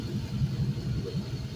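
A cleaned 5.3L LM7 V8 engine idles steadily at around 650 rpm on a test run, giving a close, even, low rumbling drone with no voices.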